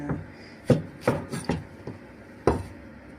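A knife cuts through small, sweet eggplant on a board in a home kitchen, about six crisp thuds at uneven intervals with quiet gaps, close and alone without voices.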